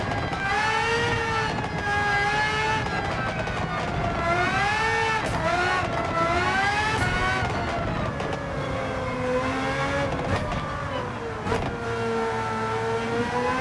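Race car engine in Gran Turismo 7 on the Highway 1 circuit, revving loud and close with rising and falling pitch sweeps as it shifts through the gears, continuous throughout.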